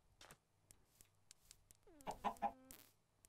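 Minecraft chickens on a farm cluck in a short burst of three or four close clucks after a run of faint, sparse ticking game sounds.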